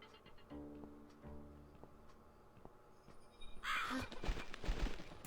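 Crow cawing in the horror video game The Cat Lady, a few harsh caws against eerie ambience, followed by a louder burst of clattering game sound.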